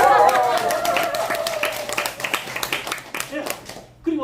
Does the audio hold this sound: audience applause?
yes